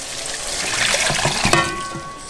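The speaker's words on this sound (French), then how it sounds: "On est à vider de l'eau pois noirs" Cooking water drained from a pot of black beans, a brief close splashing pour that trickles out steadily with a small clunk partway through.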